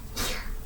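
A single sharp sneeze bursts out close to the microphone, brief and loud, with no talking.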